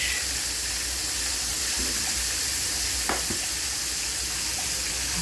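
Steady broadband sizzling of eggs frying in hot oil in a pan, constant and close, with a faint clink partway through.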